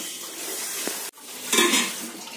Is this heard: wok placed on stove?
yes